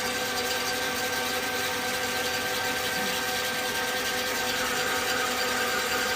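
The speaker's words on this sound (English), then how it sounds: "I like to do a lot of plunge turning on this because it removes the material so fast." A CNC mill-turn machine plunge turns wooden balls on sticks, giving a continuous dense grinding, rasping hiss with a steady level throughout and no pauses.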